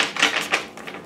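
Tarot cards being shuffled make quick, crisp papery riffles and taps in a short irregular burst, close and fairly quiet with no talking.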